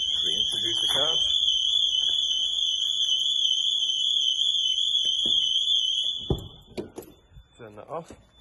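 A Cobra alarm system fitted to a Vodafone van sounds as a loud, steady electronic tone with warbling harmonics for about six seconds, then cuts off abruptly, followed by clicks, handling noise and someone speaking.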